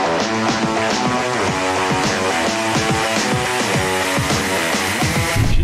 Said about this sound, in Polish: rozgrzewamy silnik do pomiaru kompresu.